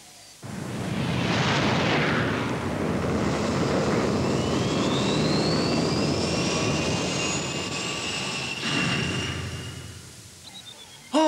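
A cartoon aircraft engine roars steadily during landing manoeuvres over western Scotland, a loud broadband rumble with a rising whine that holds for about ten seconds and then cuts off abruptly.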